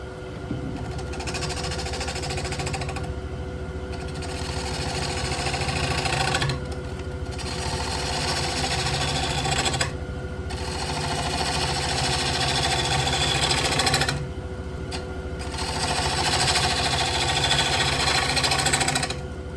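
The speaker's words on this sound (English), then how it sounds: "I think we'll start with the 1/2 inch gouge" A half-inch gouge cuts into hard ash wood spinning on a lathe, making a loud, steady, rough chattering roar. The noise runs in long stretches broken by a few brief pauses.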